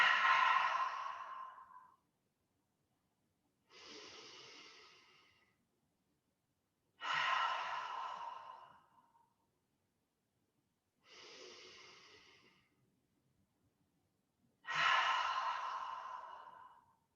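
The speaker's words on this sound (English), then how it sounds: "So take several of those big cleansing breaths." Deep cleansing breaths during a guided breathing exercise, slow inhales and exhales in five long, airy waves of about two seconds each, separated by quiet pauses, close to the microphone with no speech.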